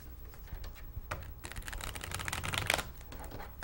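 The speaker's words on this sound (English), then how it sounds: "I'm going to clear the deck, the energy of the audience within the cards." A tarot deck shuffled by hand, a close, soft flurry of papery clicks and riffles that builds and stays busy, with no talking.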